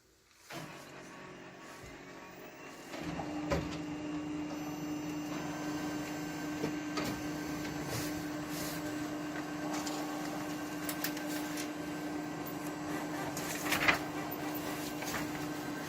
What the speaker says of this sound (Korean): 샘플 테스트 용지를 한번 뽑아보도록 하겠습니다